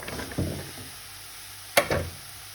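Zucchini (courgette) pieces hit a hot pan with a sharp burst of sizzling, followed by a softer crackle that fades under low kitchen noise; no one speaks.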